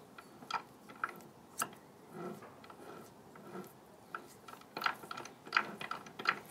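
A car gearbox input shaft turned by hand, giving faint irregular ticks, clicks and grinding rattles from the gearbox, close up and quiet with no talk.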